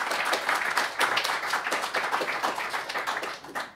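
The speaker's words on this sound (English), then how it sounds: "Let's have a round of applause." A round of applause from a small group at a podcast recording with a band, steady dense clapping for several seconds that tapers off near the end, with faint voices underneath.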